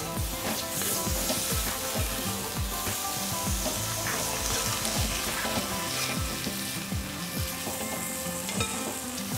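Steady, loud sizzling of tomatoes frying in masala in a hot pan, with occasional scraping and stirring knocks throughout, no voices.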